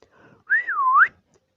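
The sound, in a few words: whistle sound effect in story narration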